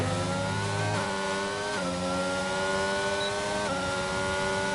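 F1 race cars from McLaren and AlphaTauri racing at Abu Dhabi in a Formula 1 video game, with loud, continuous high-pitched engine whine that shifts pitch with gear changes and acceleration, close and without talk.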